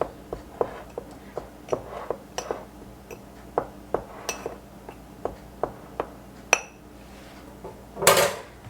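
Flour being mixed with salt and pepper in a dish, a steady series of sharp clinks and taps of a utensil against the dish, close and distinct, ending in a short louder scrape with no talk.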